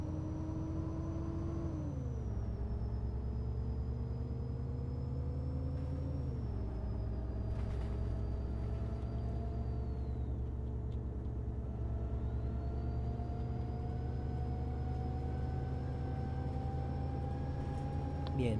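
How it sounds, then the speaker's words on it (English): An Alexander ALX400 double-decker bus in the game OMSI 2 drives along with a steady engine rumble and whine that dip briefly during gear changes, heard close and continuous. "that bus sounds amazing"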